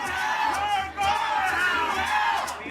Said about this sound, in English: The crowd heckling attendees of an event for an organization that helps Jews to immigrate to Israel.